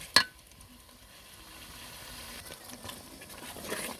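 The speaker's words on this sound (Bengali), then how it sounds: "যে মশলাগুলো ভাবে কষিয়ে নিচ্ছি ভালো করে" A spice paste sautéing in a pan gives a soft, steady sizzle with faint stirring scrapes, opening with one sharp clink and building slightly toward the end, with no one talking.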